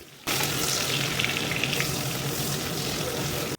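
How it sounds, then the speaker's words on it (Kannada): Onions frying in ghee with spices, fennel among them, for mushroom biryani: a steady, close, dense sizzle that holds level throughout without talk. "ಅದನ್ನು ಸ್ವಲ್ಪ ಟ್ರಾನ್ಸ್ಪರೆಂಟ್ ಕಲರ್ ಬರೋವರೆಗೂ ಫ್ರೈ ಮಾಡಿಕೊಂಡು"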